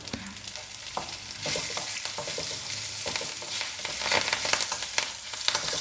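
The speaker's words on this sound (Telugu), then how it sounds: "ఇప్పుడు ఇప్పుడు కరివేపాకు" Curry leaves sizzle in hot tempering oil along with cumin and dried red chillies, giving a dense, continuous frying crackle up close. Sharp pops and stirring clicks sound throughout, with no voices.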